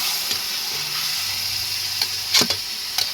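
Shrimp paste (bagoong alamang) sizzling in a pan while being stirred, a constant bright hiss with occasional scraping clinks of the utensil, close and loud with no talking.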